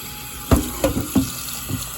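Tap water runs into a kitchen sink while oxtails are rinsed and rubbed clean, with a few distinct splashes and surges breaking over a steady, moderate running-water background. No one speaks.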